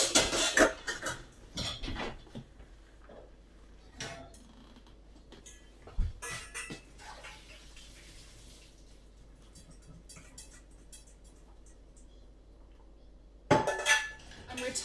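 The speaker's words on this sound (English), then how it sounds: "so I'm going to drain off the celeriac." Boiled celeriac being drained and then returned to the pan: clanks of the pot and metal utensils at the start, a quiet stretch of trickling water and drips, then another burst of pan clatter near the end.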